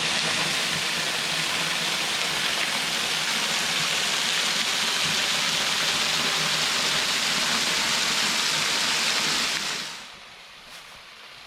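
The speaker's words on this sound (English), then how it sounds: "There's a nice view of the waterfall." Waterfall at Devil's Hollow in Cane Creek Canyon, Alabama, a steady, full rushing roar of falling water that holds unbroken for about ten seconds, then drops away abruptly.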